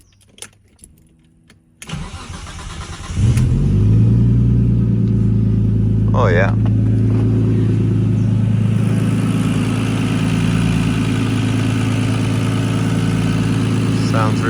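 An RB engine fitted with R35 ignition coils cranks and catches, then settles into a steady, even, loud idle up close, with a brief spoken word near the start.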